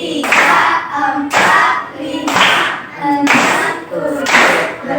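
A group of primary school children claps hands together in unison, five sharp, evenly spaced claps about a second apart, loud and close in a classroom.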